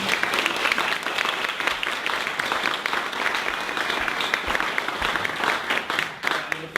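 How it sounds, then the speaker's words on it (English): Sustained audience applause welcoming a speaker onto the stage at a live talk, a dense, steady wash of many hands clapping at constant loudness throughout. "why don't we give him a big round of applause"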